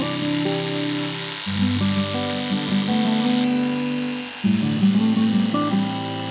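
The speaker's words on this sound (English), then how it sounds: "Now I use my handheld jigsaw to carefully cut out the curves." A handheld jigsaw cuts curves in a wooden antenna part, a close, steady motor buzz with a reciprocating rasp that shifts in pitch as the blade bites and eases through the wood, briefly dipping before surging again.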